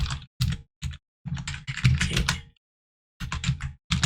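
Bursts of typing on a computer keyboard while coding, close and crisp, in clusters of rapid key clicks separated by short silences, with no talking.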